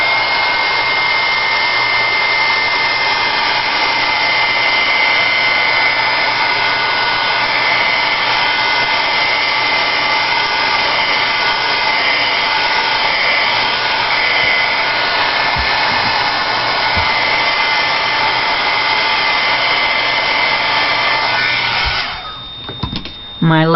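A hair dryer blows steadily and loudly for about twenty seconds, drying a third layer of paint on a Thanksgiving blessings plaque, then cuts off near the end.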